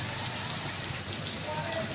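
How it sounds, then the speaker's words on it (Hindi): Hail falls with rain in a steady, dense patter and hiss close by, with occasional sharper ticks of hailstones striking, as a voice talks faintly underneath. "ये है जी ओले।"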